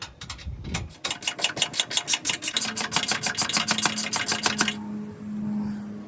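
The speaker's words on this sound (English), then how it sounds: "you'll just tighten these top 3 strut mount nuts" Top strut mount nuts being tightened on a 2003 Ford Expedition during rear shock and strut replacement: a rapid, even train of sharp mechanical clicks, close and loud, running for several seconds before stopping and leaving a low hum.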